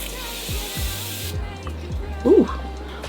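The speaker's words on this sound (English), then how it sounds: "And then I'm gonna use my Morphe setting spray" Morphe setting spray hisses from its bottle during a makeup application, one steady misting burst of about a second up close, followed by quieter handling sounds.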